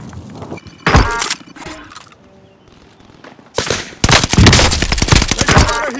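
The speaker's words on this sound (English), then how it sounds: "Taking fire over here!" Loud bursts of automatic gunfire in Call of Duty Warzone come in separate volleys: a short burst, a quieter lull with scattered sounds, then a long, intense stretch of rapid shots.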